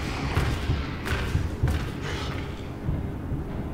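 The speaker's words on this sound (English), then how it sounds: "He's thumping about. He's very heavy footed" Heavy monster footsteps thump in the video game Amnesia The Bunker: several dull, weighty thuds fall unevenly over a constant low, rumbling game ambience, with no talk.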